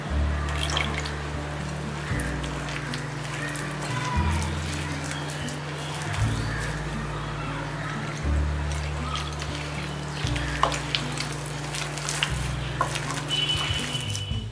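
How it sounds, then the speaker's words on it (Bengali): Water trickles and drips little by little into palm fritter batter being mixed in a bowl, soft wet sounds running over a steady low background throb. "এখন আমি জল দিচ্ছি অল্প অল্প করে।"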